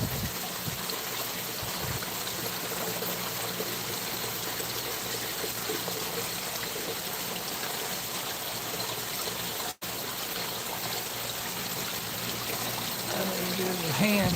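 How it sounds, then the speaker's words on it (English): Water splashes off and pours back into a pond in a steady, continuous rushing trickle that fills the whole stretch without pause. "Everything else is kind of just splashing off that way"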